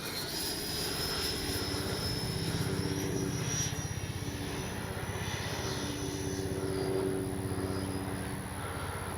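An E-flite 70mm Viper RC ducted-fan jet slows for landing with its gear down. Its engine gives a steady, moderately loud whine and rush that rises and eases slightly, heard from a distance.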